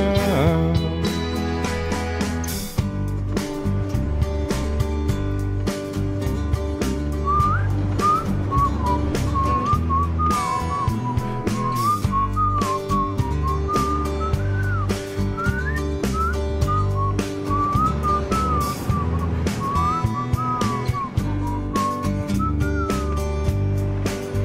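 A whistled melody rises clearly over the band's steady backing of guitar, bass and drums, carrying the tune through the outro at moderate loudness.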